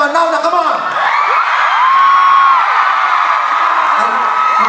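A concert crowd in Toronto shouts, whoops and cheers loudly on cue, a dense sustained roar of voices with rising shrieks that fills the whole stretch.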